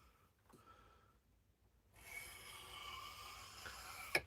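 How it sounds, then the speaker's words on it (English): Faint, steady rasping of a knife blade being rolled across an 800 grit sharpening stone, a soft scraping hiss that swells midway and ends with a small sharp tap. "So I'm just rolling it on the 800 grit, getting the bevel angle right, and then rolling it in."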